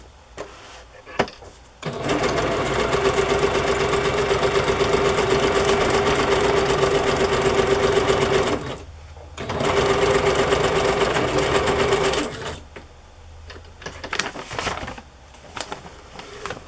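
A sewing machine stitching vintage card packaging into a journal runs in two steady, loud bursts of rapid mechanical whirring separated by a short pause, with quieter handling sounds before and after.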